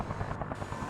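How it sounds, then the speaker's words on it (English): Steady rotor thump of a Mi-2 scout helicopter in a tank combat video game, a continuous droning chop with regular blade pulses, fairly loud and close, with no voices. "One of the other vehicles added in this update was the Mi-2 scout helicopter"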